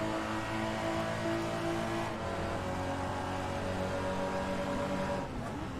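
A Porsche Super Trophy race car engine drones at high revs while running in another car's slipstream, a steady, fairly faint buzzing whine that shifts pitch partway through.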